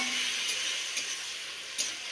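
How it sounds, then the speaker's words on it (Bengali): Tomatoes fry in a pan with a dense, continuous sizzle and soft stirring scrapes, close and steady throughout a short stretch. "টমেটোগুলো নাড়তে নাড়তে"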